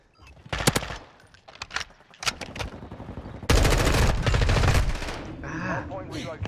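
Rapid automatic gunfire from a multiplayer shooter game, bursts of machine-gun fire and shots crackling loudly and repeatedly, building into a sustained heavy volley with brief voices mixed in.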